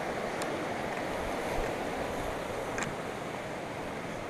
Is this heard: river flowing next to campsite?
yes